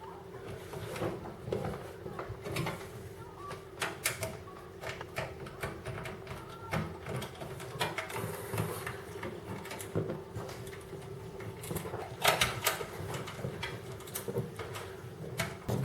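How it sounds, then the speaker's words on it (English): Tiny screws being driven into a PC power supply during a gaming PC build, giving faint, irregular scraping and clicking handling noises in a quiet room with occasional sharper ticks. "I'm just going to go ahead and screw the power supply in, these little tiny screws."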